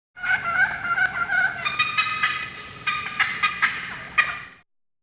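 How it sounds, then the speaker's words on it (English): Wild turkeys give their fly-down cackle as they leave the roost, a run of sharp, uneven clucking calls in quick bursts, close and clear with no other sounds. "As they fly down, they may make a series of calls known as the fly-down cackle."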